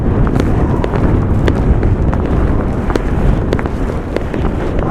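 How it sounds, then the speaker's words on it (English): Strong Antarctic wind roars steadily and loudly across the microphone in a dense, unbroken rush with gusty buffeting, alone without any voices. "But it's still really windy today."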